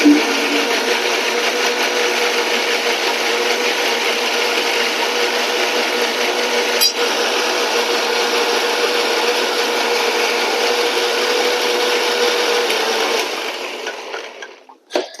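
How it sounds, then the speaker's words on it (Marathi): A kitchen blender purees two boiled tomatoes, a loud, steady high-pitched whir held for about thirteen seconds before winding down and stopping, with no talking. "मी जे 2 टमाटे होते उकळून घेतलेले, ते मी त्याची प्युरी करून घेते"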